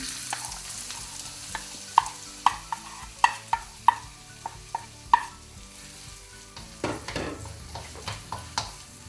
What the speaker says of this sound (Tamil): எண்ணெய் சுட்டுவிட்டது. நாங்கள் வெங்காயத்தை போடுவோம்.